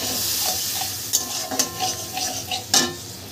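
Turmeric and a splash of water go into a frying pan of spiced cooking, with soft sizzling under scraping stirs and a few sharp clinks of a utensil against the pan.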